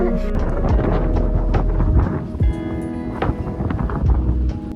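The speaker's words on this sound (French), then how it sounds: "le vent était quand même beaucoup trop fort" Loud wind rumbles across the microphone by the sea, with gusty low roaring and scattered knocks and clatter mixed in.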